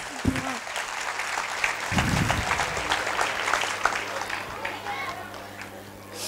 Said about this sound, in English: So can we have one more big round of applause for all the children?